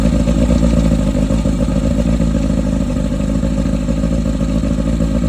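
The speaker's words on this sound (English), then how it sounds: "let's start the engine real quick." A Carolina skiff boat engine running close by with a loud, steady low rumble and a busy mechanical clatter that holds constant throughout.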